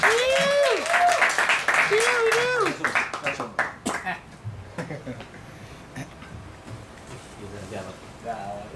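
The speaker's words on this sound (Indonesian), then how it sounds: "Tepuk tangan teman-teman" Applause and clapping from a small audience welcoming two speakers at an evening song discussion event, heard under a host's talk at the start, then thinning into scattered claps before quiet chatter resumes.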